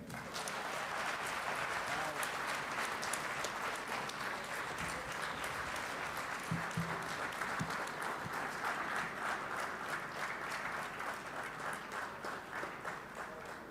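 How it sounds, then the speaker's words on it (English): Steady audience applause for the President at the Sappi upgrade and expansion project event in Umkomaas, a continuous moderately distant clapping wash lasting throughout, with faint voices and brief low thumps mixed underneath. "the President deserves that huge round of applause till he sits down."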